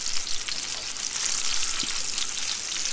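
Several pans of Christmas recipe food fry with a steady, loud sizzling hiss that runs without a break, close up, with no talking.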